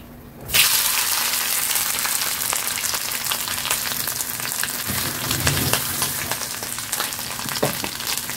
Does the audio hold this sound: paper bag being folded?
no